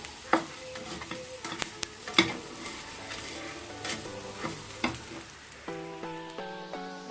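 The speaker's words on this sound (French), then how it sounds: "Bien mélanger à tout moment." A spoon stirs rice and beans in a sizzling pan, with repeated scraping strokes and light clanks over a steady fry hiss, then a few bright tonal beeps near the end, no voices.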